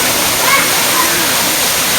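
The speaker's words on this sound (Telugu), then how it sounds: "రంప జలపాతం 50 అడుగుల ఎత్తు నుంచి కిందకు పడుతుంది." Rampa waterfall in Andhra Pradesh drops about 50 feet between large boulders, giving a steady, dense roar of falling water throughout, with faint voices briefly audible over the constant rush.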